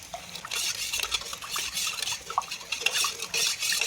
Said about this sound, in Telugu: ఇప్పుడు మొత్తం కలిసేలాగా ఒక్కసారి కలుపుకుంటున్నా